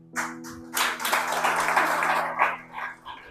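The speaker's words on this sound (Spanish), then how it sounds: "es el aplauso a Cristo" A church congregation breaks into applause, a dense burst of clapping that swells for about two seconds and then tapers off into scattered claps, with no one talking.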